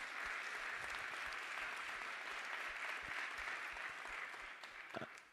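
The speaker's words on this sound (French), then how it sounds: "j'aimerais qu'on puisse les applaudir aussi et les remercier." Audience applauding the organizing team at the opening session of a startup event, a steady wash of clapping across the room that holds evenly and thins slightly toward the end, with no voices over it.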